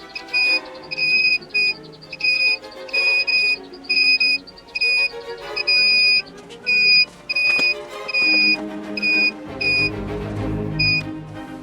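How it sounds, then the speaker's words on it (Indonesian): A multimeter in buzzer continuity mode beeps repeatedly while testing a 40-line flex cable to socket pins on a Pioneer XR-VS77 control panel PCB; about a dozen short, loud, high tones, irregularly spaced, over background music. "Lakukan pengujian dengan mode buzzer pada multimeter"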